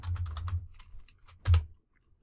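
Keys clatter on a computer keyboard in a quick burst of close, fairly loud strokes, a few lighter taps trailing off, then a sharper final press before it falls quiet.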